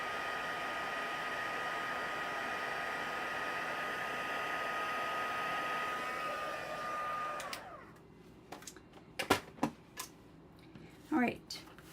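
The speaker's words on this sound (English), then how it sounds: "And let's just heat set this one, and then that's all the heat setting in here." A heat gun blows with a steady, loud hiss while heat-setting embossing powder on cardstock, then switches off, leaving a few clicks and handling noises as someone talks.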